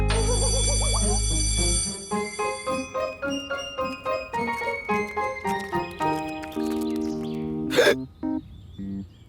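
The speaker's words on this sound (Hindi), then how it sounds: "मुझे इस हिचकियों से कैसे छुटकारा मिलेगा?" A cartoon character hiccups in a children's animated episode: a ringing, bell-like musical tone, then a run of about a dozen short rhythmic bursts, each with a bright chime, ending in a sharp high squeak.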